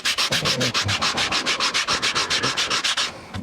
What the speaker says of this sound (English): take a piece of sandpaper and really thin these down